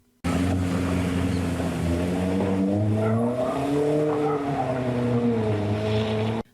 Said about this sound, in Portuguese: É assim que os veículos conseguem passar por ali, acelerando e se arriscando com manobras perigosas